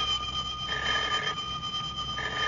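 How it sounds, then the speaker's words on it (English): An old-time radio comedy telephone bell rings steadily in bursts, a bright metallic trill over a hissy, noisy broadcast recording with no talking. "Well, Swan, a feller can't sit down for 5 minutes without that dad-blamed telephone ringing."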